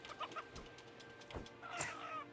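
Chickens in the video game Breakwaters cluck in short irregular bursts, a few close clucks and a higher squawk near the end, moderately loud over a faint steady background.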